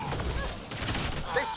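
A burst of gunfire in the sci-fi shooter Mass Effect: Andromeda, a few fast, muffled cracks under a voice, set against a busy game backdrop.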